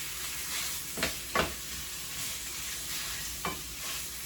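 Shepherd's pie filling sizzles steadily in a hot pan while a utensil scrapes and stirs through it a few times, close by.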